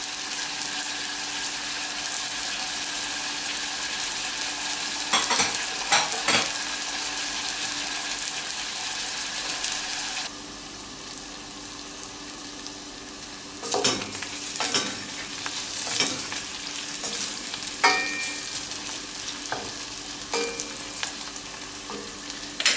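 Peppers and onions sizzle steadily in a hot pan for a paprika dish, with intermittent louder bursts of stirring and scraping rising over the continuous frying hiss.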